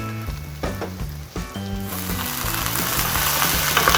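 Mapo tofu ingredients with meat are stir-fried in a hot pan, giving a steady loud sizzle that swells into a harsh hiss as something is added, with scraping stirring knocks along the way.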